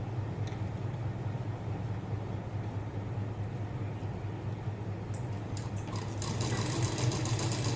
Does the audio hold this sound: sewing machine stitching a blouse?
yes